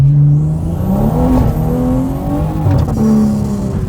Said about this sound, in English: I hit a boost cut right there